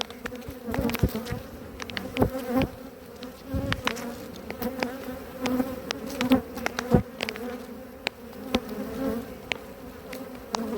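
Honey bees buzz around an open hive, a steady droning hum with individual bees zipping close past and away, moderately loud and continuous without speech.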